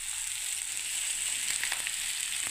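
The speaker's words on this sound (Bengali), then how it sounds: "এই ফুলকপিটাকে মশলার মধ্যে ঢেলে দিচ্ছি" Fried cauliflower tipped into hot masala in a pan, giving a steady broadband sizzle throughout with a few brief scraping clicks near the end, close and moderately loud, no talking.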